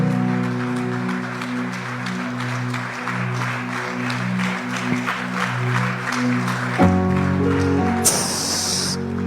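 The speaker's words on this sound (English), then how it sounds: "Begin to clap your hands" Congregation clapping hands during a church service, a dense continuous patter under sustained organ-like tones, with a bright hissing burst near the end.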